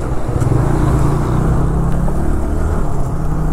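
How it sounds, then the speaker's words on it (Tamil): Vehicles travelling on the Kolli Hills hairpin-bend road, a steady loud engine and road rumble close by throughout, with no talk. "நிறைய வண்டி வந்துருது இன்னைக்கு."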